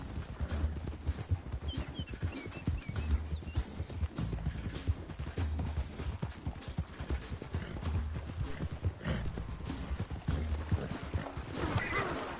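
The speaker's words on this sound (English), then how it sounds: "this horse is actually a pretty good horse" Rapid, rhythmic hoofbeats of a galloping horse in Red Dead Redemption 2 drum steadily from start to finish, crisp and close, with faint mechanical clatter layered underneath.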